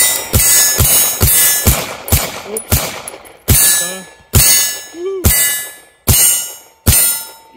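Palmetto State Armory Dagger pistol fired one-handed at a range, about nine loud, sharp gunshots in a fairly even rhythm, each followed by a brief decaying ring and a faint clink of brass.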